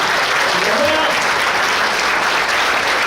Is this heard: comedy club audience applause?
yes